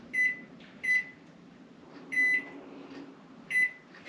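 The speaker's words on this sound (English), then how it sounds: "In the oven, now do the timer." An oven timer being set gives four short, clear electronic beeps at uneven intervals, moderately soft over a low kitchen hum.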